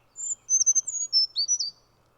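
High-pitched bird song: a rapid series of thin chirps and short trills, bright and fairly close, running for about a second and a half over a quiet background with no talking.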